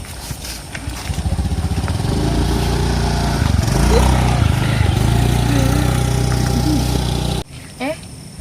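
Motorcycle engine running close by, a steady buzzing drone that rises slightly and then cuts out abruptly near the end, with people talking over it.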